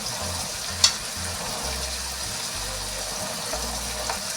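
Garlic and ginger garlic paste frying in a pan make a steady hiss over a low intermittent hum, with one sharp clink of a utensil early on.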